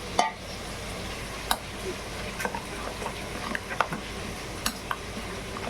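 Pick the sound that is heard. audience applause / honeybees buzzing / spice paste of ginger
spice paste of ginger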